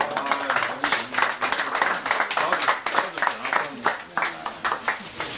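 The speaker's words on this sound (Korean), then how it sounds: "좀 박수 한번 하세요." An audience at a talk on nuclear power claps together in a steady, moderately loud round of applause that continues throughout.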